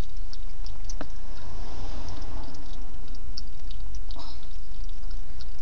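A chihuahua laps bottled water, giving a continuous run of small wet licks and patters at close range with a few sharper clicks, and no talking.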